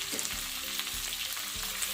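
Okra frying in hot oil with spices, a steady close sizzle with soft crackling and faint stirring scrapes, continuous and unbroken.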